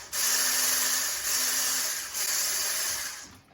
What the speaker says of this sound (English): It's an electric whisk.